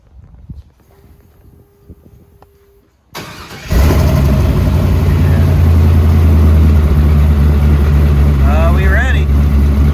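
A 6-liter LS V8 in a 1986 Chevy C10 squarebody truck cranks and fires, settling straight into a loud, steady, deep idle after some quiet handling sounds, with a voice briefly over the rumble.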